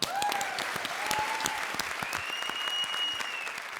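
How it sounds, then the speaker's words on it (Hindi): A studio audience on a TV comedy show breaks into loud applause, sharp individual claps over a dense crowd wash, with whistles rising above. "जोरदार तालियां।"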